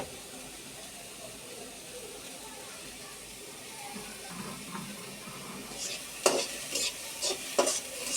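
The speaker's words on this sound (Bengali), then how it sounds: "আম্মু প্রথমে পেঁয়াজ কুচি দিয়ে দেবে" Chopped onions dropped into a hot wok for an okra fry, sizzling steadily as they are stirred, with sharper crackles and scraping bursts near the end; a voice talks faintly over the cooking.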